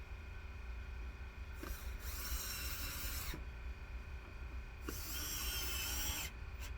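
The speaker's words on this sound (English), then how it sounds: "then I'm going to drive the screws in" A power driver runs screws into pilot holes while a studio equipment rack turret is assembled, two steady whirring bursts of a few seconds each separated by pauses, close and moderately loud.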